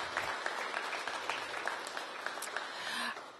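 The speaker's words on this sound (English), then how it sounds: "Let's give a round of applause to our folks in FEMS." Steady, moderately faint applause from an audience at a mayoral announcement honoring fire and EMS personnel, continuous clapping with no speech over it.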